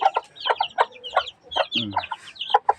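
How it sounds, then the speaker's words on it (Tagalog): Incubator-hatched chicks and chickens cheep and cluck close by in rapid, overlapping bursts, with a short lower cluck in the middle of the busy chatter. "may pisisiw pa tayo rito. 9 na piraso."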